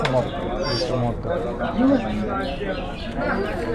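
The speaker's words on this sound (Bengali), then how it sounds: "একটা মায়া কবুতর ভাই দেখতেছেন" Maya pigeons at a busy pigeon market in Bangladesh give a single low coo partway through, set against steady crowd chatter and bargaining voices.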